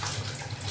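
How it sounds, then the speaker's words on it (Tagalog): Tap water runs steadily over dishes being rinsed in a sink, a soft continuous splashing hiss with a low gurgle, brief and fairly quiet with no voices. "Ito na yung madali yung pagbabanlaw"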